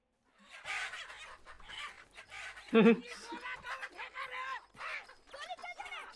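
Clucking of a chicken from the Hindi film Lagaan, with a short, sharp burst of clucks partway through, heard under the near-constant chatter of people talking over the scene.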